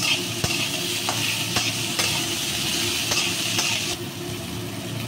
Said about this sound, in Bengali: এবার আমি ডাঁটাগুলোও দিয়ে নিচ্ছি, একসঙ্গে নেড়ে ভেজে নেবো